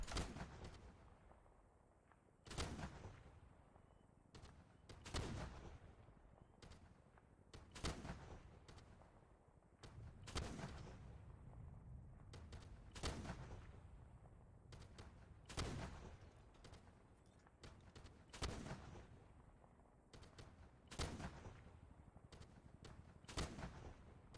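Artillery rounds land in a Vietnam-era military video game: a long series of sharp booming impacts at fairly regular intervals, a few seconds apart, distant and faint, with no talking.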